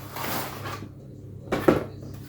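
A frozen spaghetti bolognese ready meal is opened, its plastic packaging crackling and rustling in two close bursts separated by a quiet gap, with a low steady hum underneath.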